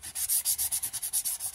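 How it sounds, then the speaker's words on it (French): A saw, not a jigsaw, cuts with about eleven quick, even back-and-forth strokes, close and rasping, with no talk. "C'est pas une scie sauteuse, hein. C'est une scie,"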